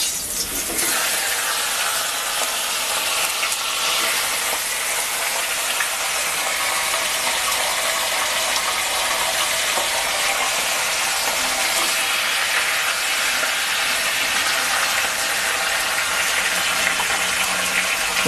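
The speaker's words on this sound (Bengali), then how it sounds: "মাথাগুলো মেখে নিয়েছি, এবার তেলে দিয়ে দিচ্ছি।" Fish heads, hilsa coated in spices, dropped into hot mustard oil in a kadai, giving a loud, steady, bright sizzle and hiss that carries on evenly throughout with no talk.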